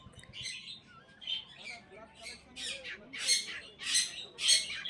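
Birds squawk and chirp in repeated bursts that grow louder toward the end, at a riverside bird market on the Ganges bank where dogs, fish and plants are also sold, with faint background bustle.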